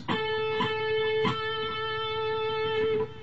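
A few plucked nylon-string guitar notes from Pachelbel's Canon ring out cleanly, one sustained tied tone holding underneath as new notes enter, played alone with no voices.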